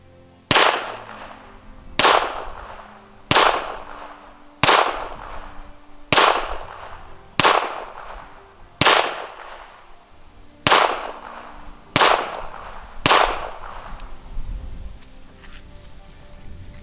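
A pistol fitted with a red dot sight fires ten sharp shots at a target, evenly spaced about every 1.3 seconds, each loud crack followed by a short ringing echo outdoors.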